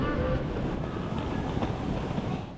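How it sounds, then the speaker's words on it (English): VR SM6 Pendolino Plus seven-car high-speed electric train running, heard as a dense, steady rolling rumble with faint rhythmic rail clatter and a brief whine near the start. "It's a VR SM6 Pendolino Plus 7-car high-speed EMU"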